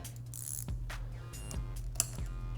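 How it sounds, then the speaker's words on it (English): A 10mm ratcheting wrench tightens the pivot bolt on a Womet-Tech Evo racing lever fitted to a Honda Grom, giving a few spaced, close ratchet clicks over a steady low background hum. "Once I get some thread engagement, I will grab my 10mm wrench"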